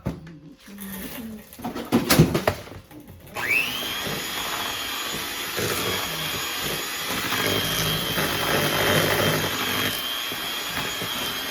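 Electric mixer beating powdered, brown and white sugar with eggs and butter for chocolate chip cookie dough, a steady whirring drone that starts after a few seconds of clattering and runs on at even loudness.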